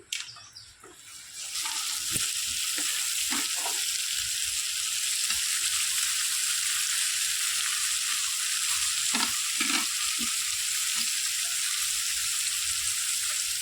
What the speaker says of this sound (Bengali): এবার সেদ্ধ করে রাখা আলু আর কড়াইশুটিটা দিয়ে দিচ্ছি